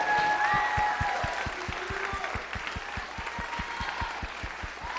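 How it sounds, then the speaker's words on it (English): A school audience claps for four teachers who staged a student musical, sustained applause with a strong, regular rhythmic clap punching through close by and a brief voice at the start. "Can we also give a big round of applause to our 4 teachers who kind of put this together?"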